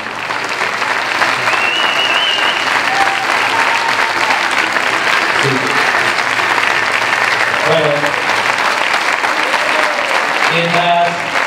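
A theatre audience gives the performing company strong, continuous applause, loud and dense throughout, with voices talking and calling out over the clapping.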